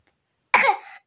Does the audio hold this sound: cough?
yes